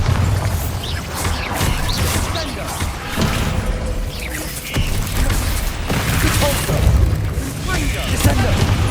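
Heavy booming spell impacts and crashing debris from Hogwarts Legacy combat, loud thuds and blasts recurring every second or so, with a voice calling out spells over the action.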